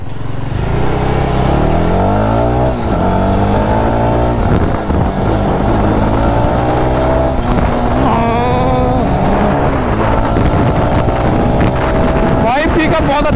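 A Jawa Bobber 42 motorcycle is ridden, its engine loud and close with rising and falling revs through gear changes, overlaid with heavy wind rush.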